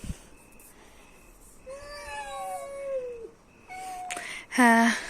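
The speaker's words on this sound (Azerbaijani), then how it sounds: "Pişiklər dava eləyəcəklər. Dalaşmayın." Cats at an outdoor garden gathering let out drawn-out, wavering yowls that rise and fall, then a sharper, louder yowl bursts out near the end, like cats squaring off.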